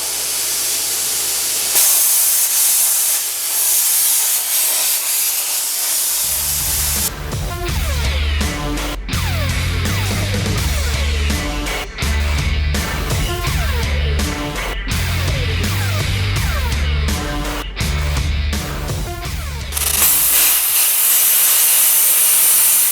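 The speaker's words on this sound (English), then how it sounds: "I guess we're gonna weld it up." Welding on a BSG project, with a steady hiss and spray that break off several times into short pauses, loud and close throughout, with no talk.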